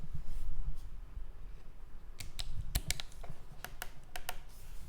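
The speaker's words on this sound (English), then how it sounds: "the main ones that have sound have this nice clicking" Crisp mechanical clicks come from the switches on a Fanatec F1 Podium steering wheel, first a few sparse ones and then a rapid irregular burst of sharp, close taps over a faint background hum.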